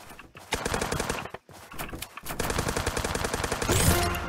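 Dual pistols fire in the browser battle-royale game Zombsroyale.io: rapid, sharp shots in dense bursts with a short gap, growing busier and louder toward the end.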